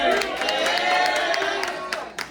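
A crowd at a poetry event in The Greenwich cheers and whoops with scattered claps, a loud, steady, roomy roar of mixed voices that fades slightly toward the end.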